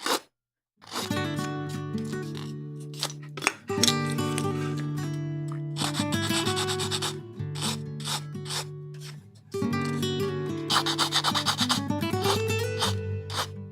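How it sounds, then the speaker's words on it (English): Repeated rough rasping strokes of a file scraping nubs off a plastic Bandai 1/144 HG Gundam model kit part, coming in bursts with brief pauses, close and fairly loud. "file these nubs out"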